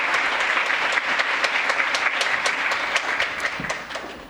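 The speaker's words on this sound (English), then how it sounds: "Let us give another round of applause" Audience at an international youth peace conference applauding, dense sustained clapping with sharp individual claps standing out, tapering slightly toward the end.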